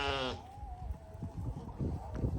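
Sheep and goats feed on peanut fodder at a farm, with a loud bleat up front followed by steady munching and shuffling sounds close by.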